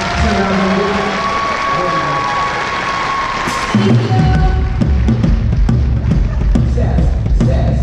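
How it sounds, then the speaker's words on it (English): An audience at an event applauds a speaker. Scattered claps and crowd noise come first, then the applause swells into a louder, denser round with cheering toward the end. "I want to give a round of applause one more time."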